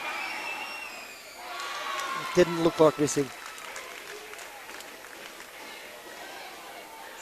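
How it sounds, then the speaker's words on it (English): A basketball grand final crowd, SCM Ringwood against Corio Bay, breaks into a brief burst of cheering and clapping in the middle, with a commentator talking over a low arena murmur. "Crowd finding some voice."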